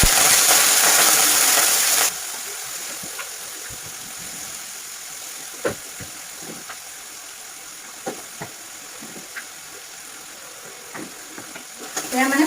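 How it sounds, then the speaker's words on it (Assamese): Potatoes hit hot oil in a pan with a loud, bright hiss for a couple of seconds, which then drops to a soft sizzle broken by scattered clicks and scrapes of stirring. "এতিয়া ইয়াতে মই আলু ভাজি ল'ম"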